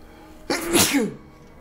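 A single sharp sneeze bursts out close by, a quick intake then an explosive, breathy release lasting under a second against a quiet background.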